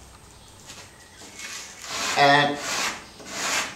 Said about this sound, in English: it's a good idea to scratch up the surface a little bit.